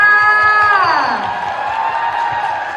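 A movie gala audience cheers during a birthday celebration, with high whooping voices sliding downward before settling into a sustained, fairly loud crowd clamour mixed with scattered speech.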